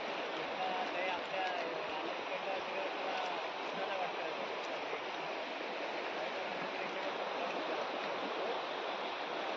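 A river in the Konkan forest flows continuously in a steady rushing hiss, running close by, with no breaks.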